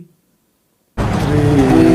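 A car pulls up and arrives after a second of near silence, its engine and road noise rising abruptly to a loud, steady rumble that fills the rest of the moment.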